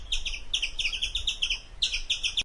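A squirrel chirps in quick, high-pitched, bird-like trills, arriving in three close bursts over a low background rumble, with no talking.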